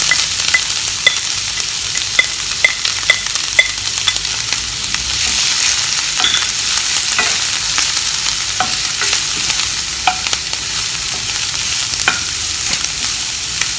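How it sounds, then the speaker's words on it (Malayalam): Chopped onion fries in hot oil with popping mustard seeds, a dense, loud, continuous sizzle with scattered crackles and occasional stirring scrapes. "ഇതിലേക്ക് ഈ അരിഞ്ഞു വെച്ചിരിക്കുന്ന ഉള്ളി ഇപ്പോൾ ചേർത്ത് കൊടുക്കുകയാണ്."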